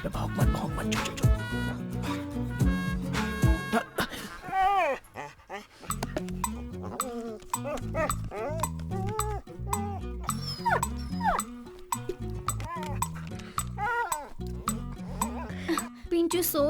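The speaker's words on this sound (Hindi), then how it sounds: "अबे भौंक मत, चुप चुप चुप।" A dog barks and whimpers in short bursts close by in a Hindi-dubbed film scene, mixed with people talking and some music-like tones in the background.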